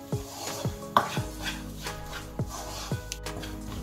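A thick coconut barfi (khopra paak) mixture with pink colouring is stirred in a kadhai: a quiet scrape and clink repeats roughly every half second, close by.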